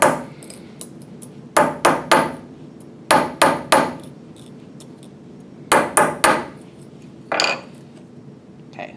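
A rivet is hammered flat on metal in sharp, ringing strikes that come in close clusters of two or three, with short pauses between groups and a last single blow.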